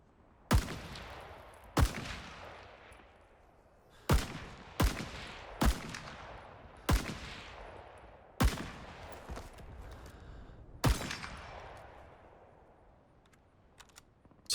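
Sniper rifle shots from the ARVN arsenal in Rising Storm 2, a sharp loud crack roughly every second or two, seven or eight in all, each with a long fading echo, no talk.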